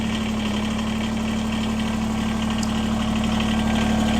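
A Kubota BX23s compact tractor's engine idles steadily at close range, giving a constant low hum with a light mechanical rattle and no talk over it.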